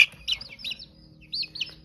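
Small chicks in a coop give a few quick, high, bright chirps in short bursts, close and fairly loud against a quiet background.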